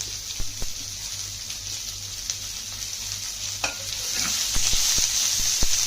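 Ginger and onion pieces sizzle steadily in hot oil in a pan, with dry chilies and curry leaves already frying, while a utensil stirs and scrapes in repeated close clicks, the frying growing slightly louder toward the end.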